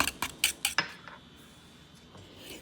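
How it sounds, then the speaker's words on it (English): Wire whisk clinking against a bowl set over a double boiler while beating angel food cake batter: four or five quick, bright metallic taps in the first second, then a few softer scrapes fading into quiet. "Whisk that thing one more time and let's get it off that double boiler."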